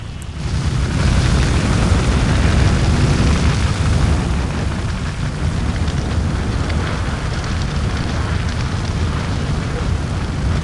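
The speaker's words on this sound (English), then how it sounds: "Power surge has caused our generator to overload and catch fire." Generator overloading and catching fire in the video game Prison Architect: a loud, sustained roaring rumble of burning and booming that holds steady throughout, with no voices over it.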